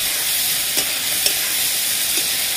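A loud, steady sizzle of spice paste frying in a pan with chopped coriander and green chilies for a vegetarian papad curry, with a couple of faint scrapes of stirring over the constant hiss.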